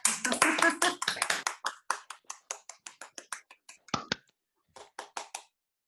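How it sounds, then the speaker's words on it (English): Small-group clapping that starts as a dense burst of many hands, then thins into a slowing trail of separate scattered claps with short pauses, fairly close and fading out near the end. "I think you should all give yourselves a big round of applause there as well"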